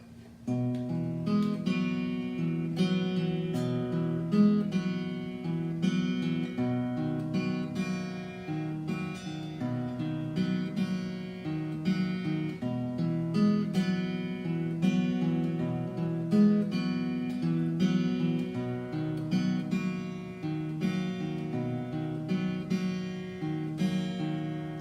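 Acoustic guitar playing the verse of a song at a slightly slowed lesson tempo, steady strummed chords ringing continuously, close and alone with no speech.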